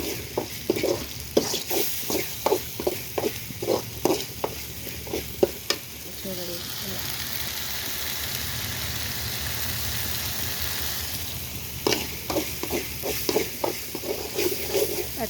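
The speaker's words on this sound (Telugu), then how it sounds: "ఇలా అయితే వేగనిచ్చుకోండి చూడండి ఆయిల్ అంతా వస్తుంది కదా పైకి కనపడుతుంది కదా" Egg curry masala frying and sizzling in oil in a pan, with repeated loud stirring scrapes in bursts and a steady frying hiss between them.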